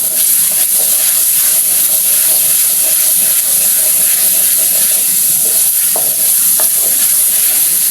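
Chicken cutlet mixture frying dry in a pan with very little oil, a constant fizzing sizzle across the whole stretch, broken by a few faint scraping stirs and light clinks.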